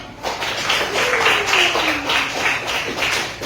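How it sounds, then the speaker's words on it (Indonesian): Audience applause in a classroom or meeting discussion, a dense, continuous patter of many hands clapping at moderate loudness, with a voice briefly heard underneath. "Ya, tepuk tangan."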